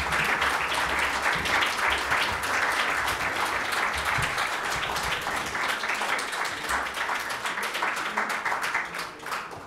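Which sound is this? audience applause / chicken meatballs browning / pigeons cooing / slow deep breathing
audience applause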